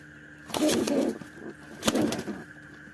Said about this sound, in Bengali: যে দুইটাই কিন্তু মাদি কবুতর তারা মিলেমিশে তা দিচ্ছে ডিমে